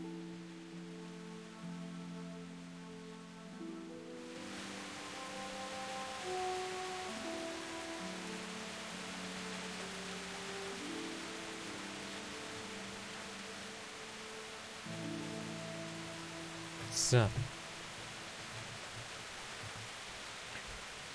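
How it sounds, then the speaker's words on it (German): Steady rain hisses under a soft, slow musical tune in the video game Kingdom Come: Deliverance, with a brief whoosh near the end and a single short spoken word. "Es regnet immer noch."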